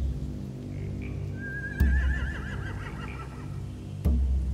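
A horse whinnies in a video game, one clear wavering neigh in the middle, with two sharp thumps and a low background rumble around it.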